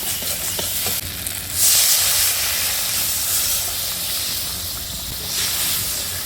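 Water poured onto hot fried spice paste in a pan, a loud rushing hiss and sizzle that swells, then settles into steady bubbling steam, close by.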